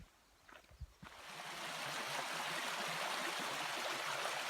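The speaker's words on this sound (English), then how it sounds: "I hear water again. Must be another creek up ahead." Creek water on the Appalachian Trail rushes in a steady broadband wash that swells in from about one second and holds loud and continuous, preceded by a few faint footsteps or bumps.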